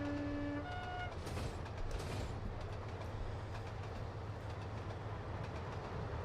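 Train running in the Trainz Simulator 2 video game on a British Midlands route, a steady loud rumble with rail clatter throughout and a brief horn-like tone at the start, no talk.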